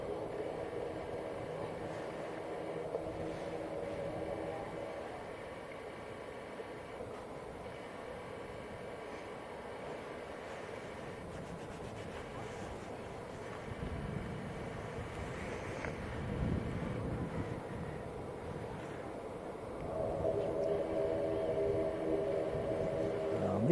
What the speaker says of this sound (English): This is EasyJet, an A320neo coming in from Nice in the south of France